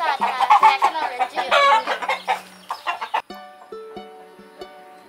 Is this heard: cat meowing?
no